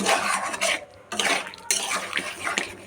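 Chicken is stirred in a pan after kasuri methi is added, giving repeated clinks and scrapes of a metal spoon against cookware in short bursts, fairly close, with no speech heard.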